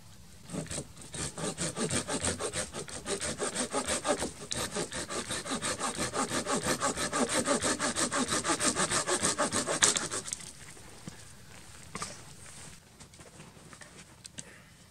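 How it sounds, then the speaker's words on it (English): A big piece of wood is sawn by hand outdoors in winter snow, with steady rhythmic back-and-forth strokes close by for about ten seconds before the sawing stops and quieter handling sounds follow. "I'll be using that hopefully to collect a big wad of sawdust as I saw this big piece down"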